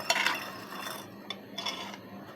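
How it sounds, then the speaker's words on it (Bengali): A spoon stirs sugar and agar powder together in a container, giving faint, close scraping and light clinking in short strokes against quiet background. "ভালোভাবে চিনিটা আর আগার পাউডারটা আমি মিশিয়ে নিচ্ছি"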